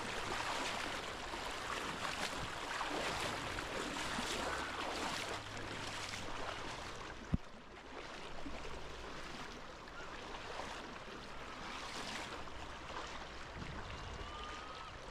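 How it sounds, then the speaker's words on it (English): The Treska river near Matka, Skopje, flowing as a steady, broad rushing wash of water, close and continuous throughout with no voices. "Look at that flow of the river."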